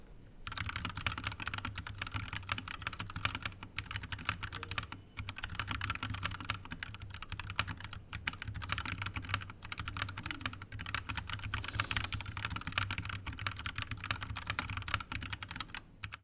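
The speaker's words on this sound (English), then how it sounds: "This is a typing test of the Acco keyboard, together with the pink switches that it came delivered with." Continuous fast typing on an Acco mechanical keyboard fitted with pink switches, dense clacky keystrokes heard close up and steady throughout with no talk.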